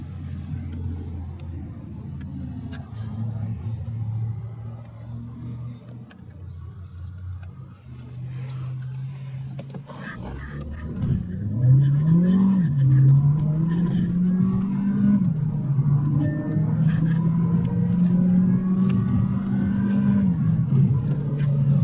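A 2015 Skoda Octavia 1.4 TSI running on LPG starts off low and steady, then revs up loudly as the car accelerates hard. The pitch climbs in several rising stretches, like shifting through gears.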